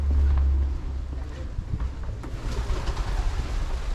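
Pigeons coo in a small street in Brasov, Romania, soft and close-ish, over a low rumble and light street background, with occasional brief voices.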